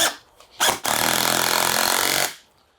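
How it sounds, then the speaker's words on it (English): A power drill drives screws into half-inch maple pieces: two brief bursts, then one sustained whirring run of about a second and a half that stops abruptly, close and loud. "So I'm going to take this here bit and we're going to screw these guys in."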